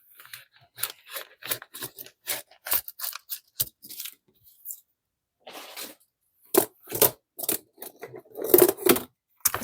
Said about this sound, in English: I might just cut it with a pair of scissors.